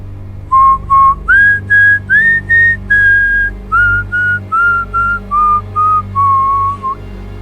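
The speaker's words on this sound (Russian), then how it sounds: "Давай посвистим. Сможешь вот так?" A clear, close whistle plays a short tune of separate notes in a steady rhythm, stepping up in pitch and then down again.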